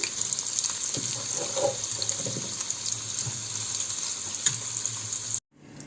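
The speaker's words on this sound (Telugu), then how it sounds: "ఆ ముక్కలన్నింటినీ ఇలాగే ఫ్రై చేయాలండి" Jackfruit pieces for a masala curry fry in hot oil with a loud, steady sizzle close up, and a few soft stirring knocks come through before the sound cuts off abruptly.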